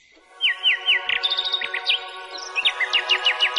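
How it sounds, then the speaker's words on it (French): Nightingale song in a fairy-tale setting at an emperor's court: repeated rising whistled phrases and rapid trills, clear and close, filling the whole stretch without talk. "sur un perchoir d'or, à côté de l'empereur, l'oiseau chantait."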